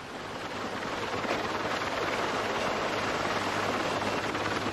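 A medical rescue helicopter flying to a rural ATV accident scene, heard as a steady, loud broadband rotor and engine roar that holds constant throughout with no voices.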